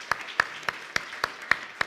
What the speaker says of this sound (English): So round of applause, I think,